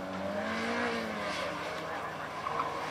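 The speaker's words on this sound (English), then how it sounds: "Mark Stockbridge takes off in his shiny showroom new MX-5" A brand-new 2006 Mazda MX-5 launches off the start line of an autocross run, its engine note rising steadily under a commentator's talk over a constant wash of wind and ambient noise.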